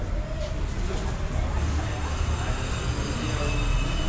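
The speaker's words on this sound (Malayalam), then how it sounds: "അപ്പോൾ ഓപ്പോസിറ്റും ട്രെയിൻ പോകാൻ വേണ്ടി റെഡിയായി നിൽക്കുന്നുണ്ട്" A steady low rumble of a Darjeeling toy train standing idle at a station platform, continuous and moderately near, with a faint hum underneath and no sharp events.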